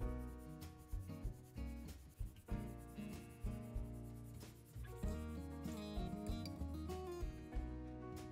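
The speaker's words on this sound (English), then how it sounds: "using my HP pencil I cover the drawing outline with graphite" An HP graphite pencil scrubs back and forth over the back of tracing paper, shading over a drawing outline with a soft, continuous rubbing rasp. Background music plays throughout.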